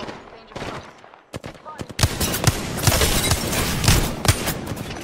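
Sustained automatic video game gunfire rattles at close range, preceded by scattered single shots and followed by a dense, continuous burst.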